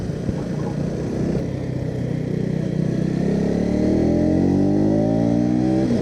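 A KTM motorcycle is ridden on a race track at a KTM XP event in Chennai, its engine droning loud and close and climbing steadily in pitch as it accelerates through the gears.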